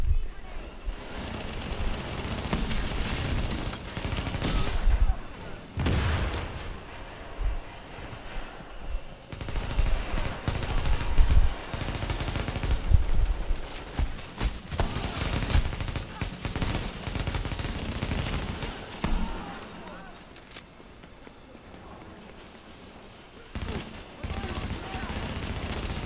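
Sustained automatic gunfire in Tom Clancy's The Division, a shooter game: dense bursts and rattling volleys run almost continuously for nearly half a minute, with brief lulls and loud peaks, and players talking now and then underneath.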